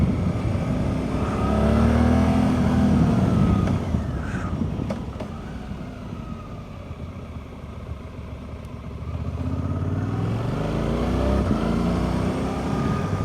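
Suzuki V-Strom 800 motorcycle ridden on an open road, its engine droning steadily with rising and falling revs and strong wind rush, loud and close throughout.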